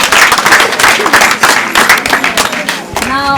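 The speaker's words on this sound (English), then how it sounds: "Another round of applause" Loud, sustained audience applause fills a secondary school career day ceremony hall, dense clapping rolling on for several seconds with a brief voice near the end.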